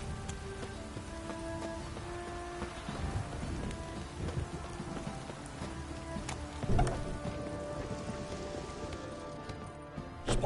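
Steady rain falls across a scene in The Witcher 3 video game, a continuous wash of drops on surfaces with faint clopping and a low rumble beneath, no talking.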